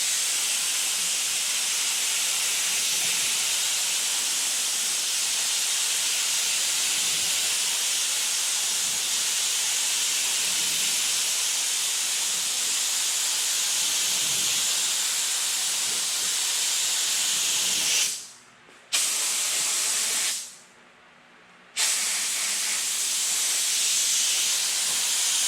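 A Harbor Freight HVLP paint spray gun sprays continuously as a loud, steady broadband hiss, cutting out briefly twice near the end before resuming, with no voices.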